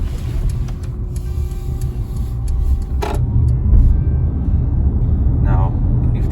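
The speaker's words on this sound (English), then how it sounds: "comes to driving the EQB, I really love how silent it is, and also I love how fast you can get into traffic" A 2022 Mercedes EQB electric car drives in traffic, giving a low steady road rumble and tire hum inside the cabin, with a brief click and a faint whine.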